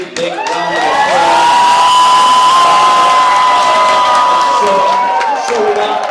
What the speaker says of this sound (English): Can we give Venus and Jasmine a really big round of